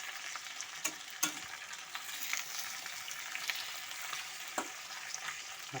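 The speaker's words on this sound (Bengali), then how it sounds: "একটু ভালো করে একটু ভেজে নেব।" Chicken frying in a pan for a Bengali dish, a steady bright sizzle with occasional sharper crackles and stirring scrapes, close and fairly quiet, with no talking.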